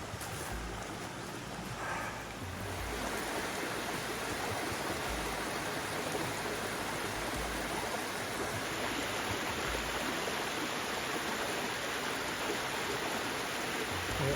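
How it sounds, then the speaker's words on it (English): Skull Creek Falls in Big South Fork pours in a steady, broadband rushing roar of falling water, close and unbroken throughout. "you gotta love a waterfall like that."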